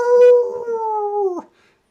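A wolf howls as a sound effect in a tabletop fantasy role-playing game: one close, sustained tonal howl that slowly drops in pitch and cuts off sharply, leaving silence.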